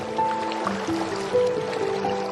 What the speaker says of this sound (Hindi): नाव में पानी भरने लगा और नाव डूबने लगी